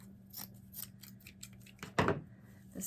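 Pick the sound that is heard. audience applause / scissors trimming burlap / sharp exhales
scissors trimming burlap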